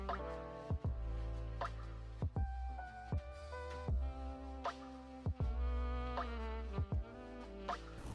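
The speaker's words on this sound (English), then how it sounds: "Once you crack that free, you can now remove the top cap and spring from the fork to drain the oil." Oil draining from an opened Honda CB-series motorcycle fork, heard as a steady run of hollow, resonant drips and plops, close and fairly evenly spaced, with no talk.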